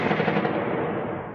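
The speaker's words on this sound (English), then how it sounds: "flames and what sounds like gunfire reverberates around the city of Sumy in the north" Gunfire during the Russian attack on the city of Sumy in northern Ukraine, a dense continuous rattle of shots echoing loudly between buildings with no pauses.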